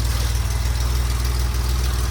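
An Alpine car with its engine at the rear idles during a warm-up, a steady low rumble with a regular pulsing beat, close and constant throughout, without any talk.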